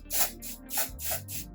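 Several quick pumps of a tinted lace spray mist over the lace of a curly bob wig with highlights. The hissing bursts come close together, each short and soft, with no talking.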